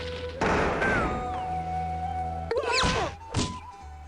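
An axe strikes a stump in a Carmen Sandiego adventure game, landing a few solid, heavy thunks spaced apart, each with a short ringing tail, close and fairly quiet with no voices.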